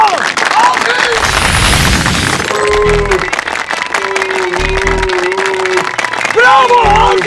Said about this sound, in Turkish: Bravo! Alkış!